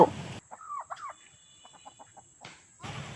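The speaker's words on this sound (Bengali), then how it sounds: "বন্ধুরা, এগুলো হলো সাদা মুরগি।" White chickens clucking and calling in a short run of nearby fowl sounds, with quieter scattered clucks trailing off, no talking.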